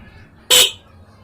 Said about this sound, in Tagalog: Switch tayo sa stock horn